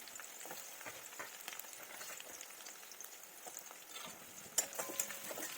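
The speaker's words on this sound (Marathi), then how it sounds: "हे छानपैकी फ्राय झालं" Potatoes and green chillies fry in a pan, a soft, continuous crackle with faint sputters and occasional light clinks of a utensil, quiet and without voices.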